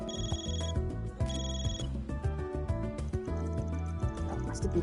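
A telephone in the video game Trails through Daybreak rings in repeated bursts of electronic trilling, loud and close, over a bed of game music with no talking.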